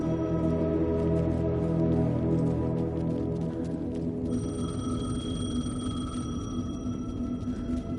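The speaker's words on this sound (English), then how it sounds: "Payphone was ringing." A payphone rings in the video game Alan Wake 2, a repeating electronic ring that rises over a dense, droning game soundtrack and holds steady through the second half.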